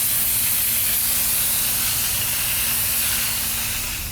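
A paint spray gun sprays wicker, a loud, continuous airy hiss held close and steady the whole time, with no voices.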